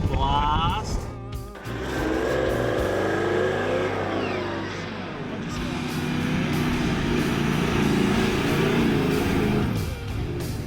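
A 4WD vehicle crossing a sand bog in the Simpson Desert, its engine revving loudly and surging with steady strain throughout, mixed with wind or road noise and some speech.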